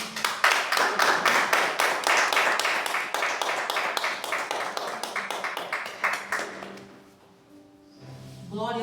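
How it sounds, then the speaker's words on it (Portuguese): A church congregation claps steadily in praise, a dense run of many hands in rhythmic beats that fades out near the end, followed by a brief voice and tones. "As palmas, glorifica ao Senhor"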